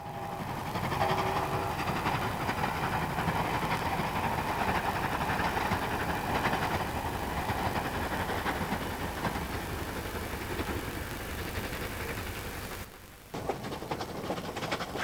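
Australian steam locomotive 3803 hauls a northbound train near Douglas Park, a steady rumbling rush of engine and rolling wheels heard at moderate distance, continuous and without talk, with a brief drop near the end.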